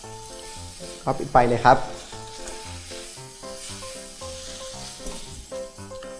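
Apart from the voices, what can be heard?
stir-frying glass noodles with sweet basil and holy basil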